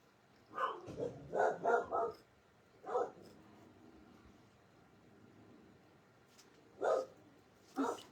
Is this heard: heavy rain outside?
no